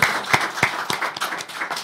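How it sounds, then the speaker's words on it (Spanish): Applause at a carnival-themed talk show gathering, a small group clapping in uneven rhythm with a few sharp louder claps, close and moderately loud, no speech over it. "Un aplausito fuerte"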